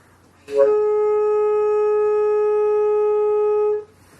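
A single sustained saxophone second overtone rings clear and steady for about three seconds, higher and thinner in tone, before cutting off cleanly.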